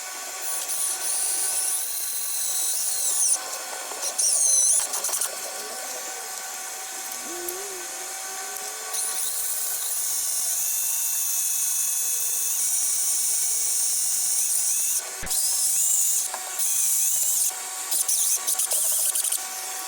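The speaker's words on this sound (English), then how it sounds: "I could go ahead and drill it in so you can hold it in place." A power drill boring holes into a car body during a show car repair, a steady high-pitched whine that runs in long bursts with short pauses between them, close and alone.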